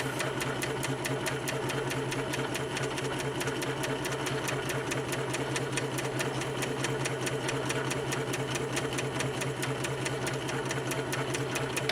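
A Spiegel 60609 sewing machine stitching a hem runs steadily throughout, its fast even needle rhythm and motor hum continuous and close.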